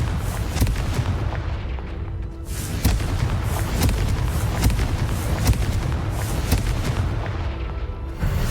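Confringo blasting spells explode in Hogwarts Legacy, a dense, continuous run of loud booming bursts with sharp cracks and rumbling impacts, close and without a break.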